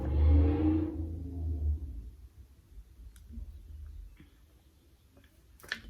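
A car engine revs hard as it pulls out, a loud low rumble for about two seconds that fades as the car moves off, leaving faint ticks and distant noise.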